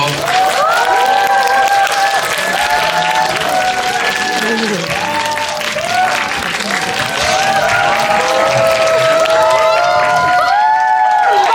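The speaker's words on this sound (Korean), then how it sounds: "박수로 맞아주십시오" Loud, sustained applause and cheering from a cinema audience at a stage greeting for a film's director and cast, dense clapping mixed with whoops and excited shouts filling the whole stretch.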